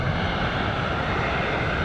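An airplane comes in to land at Mogadishu's international airport, its engines giving a steady, fairly loud broadband roar that fills the short moment without voices.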